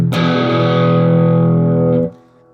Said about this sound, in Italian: È un bel crunch, molto bello